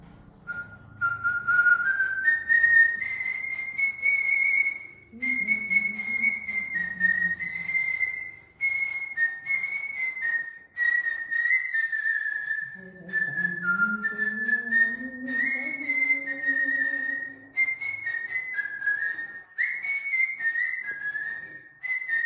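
A mimicry performer whistles a song by mouth, a bright, clear melody in phrases with short breaths between them, close and loud, with a few lower hummed or voiced notes joining midway.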